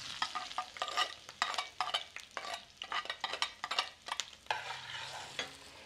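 Chili and tomato salsa poured into a clay cazuela sizzles and fries while a spoon stirs it in repeated scraping strokes, close and fairly quiet with an uneven rhythm.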